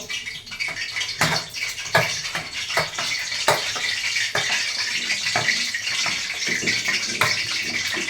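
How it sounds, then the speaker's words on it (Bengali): Chicken meat frying in a pan for a chicken roast, giving a steady broadband sizzle with repeated sharp clatters and scrapes throughout, fairly close and with no talking. "এখন মাংসটা ভেজে নিব।"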